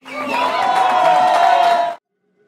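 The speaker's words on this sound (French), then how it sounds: "Bien-aimé, acclamons notre informaticien frère Manuel." Congregation at a Christian gathering cheering and applauding for brother Manuel, the computer specialist; a loud, steady burst of crowd cheers and clapping lasting about two seconds, then cutting off abruptly into silence.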